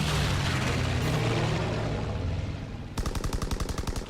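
Strafing run by a fighter plane in Call of Duty WW2: a loud roaring rumble of incoming aircraft and fire gives way to a rapid, evenly pulsed burst of machine-gun shots that runs to the end.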